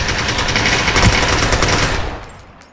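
Rapid automatic gunfire from the Ring of Elysium battle royale game rattles loudly and continuously for about two seconds, then cuts off.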